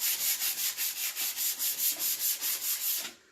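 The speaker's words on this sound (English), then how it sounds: "I gave it a light sanding just because I'm going to lay that paper over top" Light hand sanding of primed furniture before decoupage paper goes on: a steady, rhythmic back-and-forth rasp of about fourteen even strokes, close and clear with no talk, then stopping.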